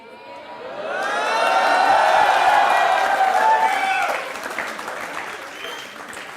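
A studio audience at a televised interview show breaks into loud applause and cheering that builds, peaks for a couple of seconds, then thins into lighter clapping, with a voice heard over it.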